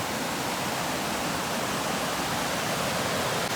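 Steady, unbroken roar of a waterfall during monsoon rains, a broad even rush of water that holds at the same level throughout, with no voices.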